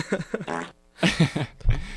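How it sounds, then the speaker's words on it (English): Comic fart noises come in quick, buzzy sputters: two short bursts, a longer rippling stretch, then a final low blat, close and fairly loud. "Do the fart sound."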